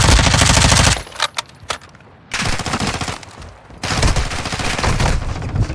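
Heavy automatic gunfire in a video game combat match, loud sustained bursts of rapid fire broken by short gaps, with scattered single cracks between the volleys.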